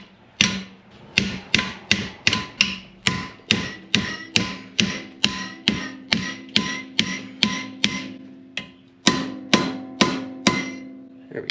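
A metal exhaust hanger for a 1955 Buick Special is hammered into a bend, with about two dozen sharp, ringing blows struck in a steady, close rhythm and a brief pause partway through.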